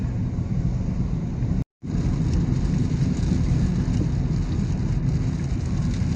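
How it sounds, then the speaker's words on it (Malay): Steady, heavy rain pours continuously with a broad hiss in rural Negeri Sembilan, Malaysia, broken by one brief silent gap; no voices are heard. "Masih hujan lagi."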